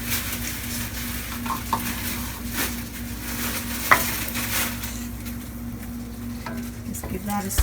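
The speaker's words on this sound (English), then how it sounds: "Just give that a stir" Meat and beef broth stirred in a pan on the stove, a spoon scraping and swishing through simmering liquid with a soft sizzle and a few light clinks against the pan.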